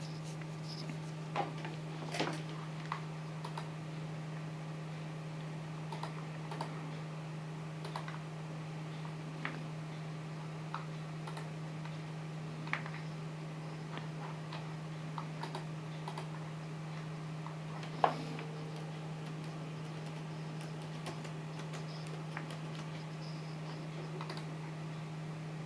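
Someone types an Instagram user ID and password on a computer keyboard, light scattered key clicks over a steady low hum, faint and irregular, with no talking.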